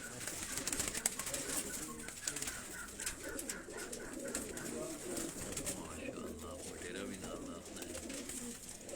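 Tunia breed pigeons from Sialkot coo softly in a rhythmic, low throaty burble, with faint chirps and rustling in the background and a voice talking over them.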